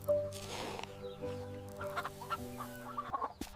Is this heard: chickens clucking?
yes